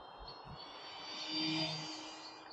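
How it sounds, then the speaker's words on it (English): An Arrows Trekker split-tail RC airplane on a 3S 2200 mAh battery flies outdoors in the morning, its steady electric motor whine swelling as it passes closer, then easing off. "It's a beautiful morning to fly your nice RC airplane."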